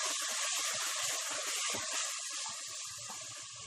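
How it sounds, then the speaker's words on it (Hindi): Water poured into a hot pan of fried chicken while cooking haleem, giving a loud continuous sizzling hiss of steam with crackles that eases slightly toward the end, with no voices. "हम इसमें थोड़ा सा पानी डाल देते हैं।"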